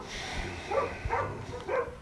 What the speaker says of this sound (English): the dogs are barking at the FedEx guys